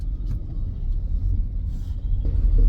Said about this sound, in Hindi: तो जाम में फंसे मतलब ट्रैफिक है अभी तो।